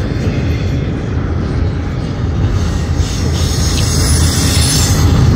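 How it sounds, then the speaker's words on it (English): A northbound CSX intermodal freight train loaded with containers, with a DPU locomotive at the rear, rolls past close by in a loud, steady rumble of wheels on rail, with a faint high squeal over the top. "There's the DPU at the end of the train."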